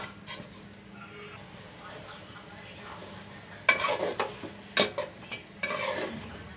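Whole garlic cloves sizzle softly in a pan of goat liver bhuna, a low steady hiss broken near the end by louder bursts of stirring and scraping.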